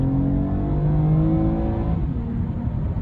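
A 2024 Toyota Camry XSE with a naturally aspirated V6 revs loudly and close, a strong rising engine note that holds, then eases off and settles into a lower hum, with no speech.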